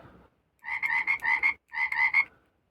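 A USB rechargeable toy frog croaks in two bursts of rapid, loud, buzzy pulses, the first longer than the second, with a short silence between and no talking.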